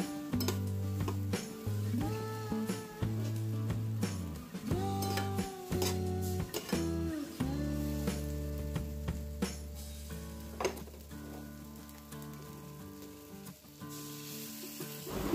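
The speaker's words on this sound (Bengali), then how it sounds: "ততক্ষণই নাড়বো যতক্ষণ না তেল ছেড়ে উপরে উঠে আসে" Shrimp-paste spice masala sizzles in hot oil while a utensil stirs it, scraping and clinking against the pan in irregular bursts, close up and with no voices.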